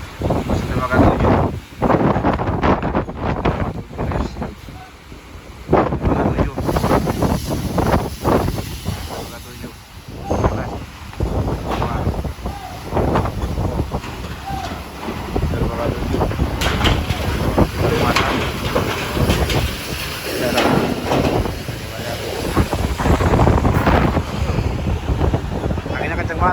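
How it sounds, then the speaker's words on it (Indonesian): Strong, gusty wind roars continuously across the microphone at a pier in Merak ferry harbour during severe weather, with a voice talking intermittently under the buffeting. "Anginnya kenceng banget."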